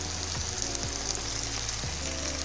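Prawns and cubed capsicum fry in a pan with a steady, close sizzle and a few low scraping stirs.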